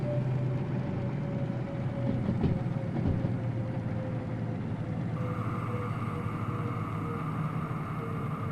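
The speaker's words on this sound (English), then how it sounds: "We got a runaway train." A runaway train rolls along the tracks in the video game Custom Cargo Cult, giving a steady, loud rumble with a sustained tonal hum and a brief clatter partway through, continuous with no voices.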